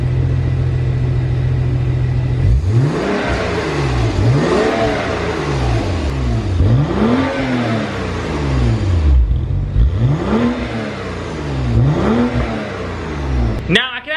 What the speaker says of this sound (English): let's go ahead and start up the car real quick